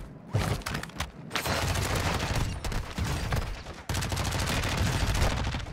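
Rapid bursts of automatic gunfire from an MP5 submachine gun in a video game shootout, loud and dense with short gaps between volleys, a brief low boom near the start.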